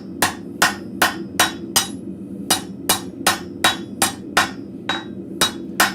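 A blacksmith forging an arrowhead at the edge of an anvil strikes about a dozen sharp, ringing hammer blows in a steady rhythm, with brief pauses between groups. The blows are close and loud.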